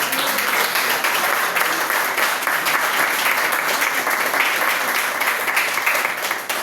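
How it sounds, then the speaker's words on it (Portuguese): A congregation at a Sunday church service applauds together, a steady, dense clapping that holds at an even level for several seconds and fades slightly at the end. "Nós vamos ter a oportunidade de palmas assim."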